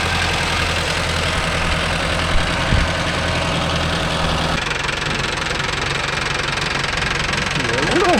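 Mahindra Arjun Novo 605 DI tractor engine running at slow driving pace, a loud continuous knocking diesel drone that drops slightly in tone halfway through, with talk over it.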